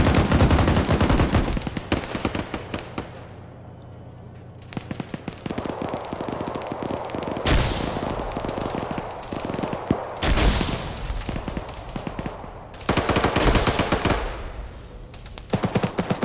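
Machine gun fire in the video game Arma 3, loud sustained automatic bursts broken by short pauses, with sharp single cracks and rattling volleys over about sixteen seconds.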